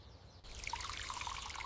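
Water poured gently onto flowers, starting abruptly and then continuing as a soft, steady trickle with small splashing drips, quiet and close, with no voices.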